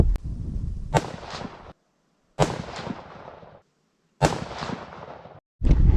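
Three loud, sharp Kimber 7mm-08 rifle shots fired outdoors at a target 100 yards away, each crack followed by a long echoing decay and quiet gaps between, with a fourth report starting at the end.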